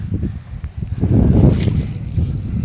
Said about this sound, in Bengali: পানি টল টল করতেছে বাতাসে।